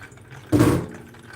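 Cooked homemade macaroni water being poured off, a brief splashing gush that starts suddenly, lasts under a second and fades into quiet.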